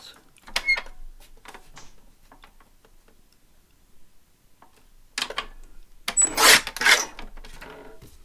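A paper trimmer slices paper in a few sharp clicking strokes, close and moderately loud, followed by a longer burst of rasping cuts and scraping.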